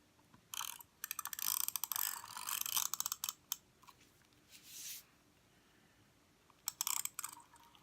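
Double-sided tape pulled off its roll and pressed down while assembling a DIY Christmas planner, giving bursts of close, crackly ratcheting tears in quick runs, then a pause and a final short rip.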